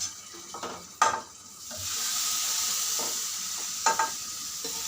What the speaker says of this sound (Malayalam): കടുകും വേപ്പിലയും കൂടി വറുത്തിടുന്നുണ്ട്